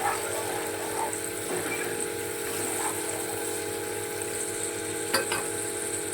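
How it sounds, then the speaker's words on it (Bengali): Chanar dalna, a paneer curry, simmers and sizzles steadily in the pan as water is added, with a constant bubbling hiss throughout and a brief sharper crackle near the end. "জল দিয়ে দিচ্ছি। এটা ভালো করে ফুটবে, তারপর নামিয়ে নেব।"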